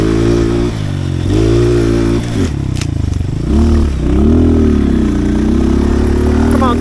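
A pit bike on a dirt track revs hard and shifts through gears, the engine note climbing in repeated surges with brief drops between, loud and close with some clatter.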